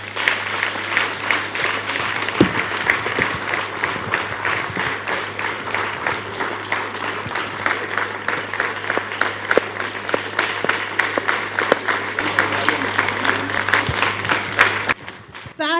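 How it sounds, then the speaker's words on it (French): A studio audience applauds as a couple is welcomed onto a French television show, a dense, steady clapping that runs loud for about fifteen seconds before cutting off abruptly near the end, with a low hum underneath. "cher public, sous vos applaudissements, accueillons Madame, Messieurs Defly."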